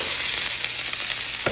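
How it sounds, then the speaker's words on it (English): Beef roast frying in about a tablespoon of hot oil in a skillet, a steady, close, bright sizzle with no talk over it. "So I've got about a tablespoon of oil here. Heating up in my skillet."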